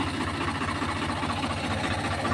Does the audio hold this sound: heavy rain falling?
no